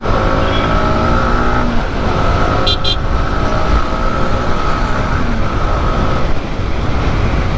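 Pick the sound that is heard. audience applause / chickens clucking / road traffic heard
road traffic heard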